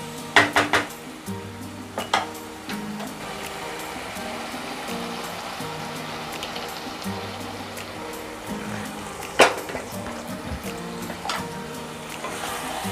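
Cooked chicken being mixed with prepared gravy in a pan for chicken barra, with several sharp metal spoon clinks against the pan over a steady low cooking hiss, close by; no talking.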